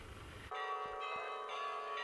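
Carillon bells of Wavre ring out clearly after a short burst of noise, sustained bright tones with a couple of soft lower strikes, loud and steady with no voices.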